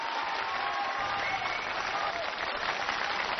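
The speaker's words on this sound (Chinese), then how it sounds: "你鼓掌啊，你们干嘛呢？" A studio audience at a televised choir competition final claps steadily, a dense, even wash of applause that carries on without a break.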